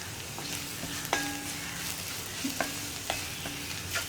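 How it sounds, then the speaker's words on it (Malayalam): Chili powder and asafoetida frying in an iron pan while being stirred, with a steady soft sizzle broken by a few sharp scrapes and taps of the spoon against the metal. "1 മിനിറ്റും കൂടി ഇളക്കി കൊടുക്കുമ്പോൾ കായപ്പൊടിയും കുക്കായി കിട്ടും."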